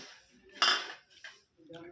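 Metal spoon clinking against a water vessel during a Satyanarayan puja at home, a few bright chimes with one loud strike, then softer taps.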